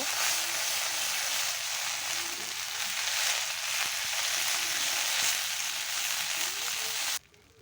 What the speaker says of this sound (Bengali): বেটে রাখা পেঁয়াজ আদা রসুন লঙ্কাটা আমি এই তেলের উপরে দিয়ে দেবো দিয়ে খুন্তি দিয়ে ভালো করে নেড়ে চেড়ে নেব